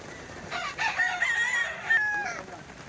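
A red kelso rooster crows once nearby, a loud drawn-out cock-a-doodle-doo with a rising then sustained final note, over light background noise.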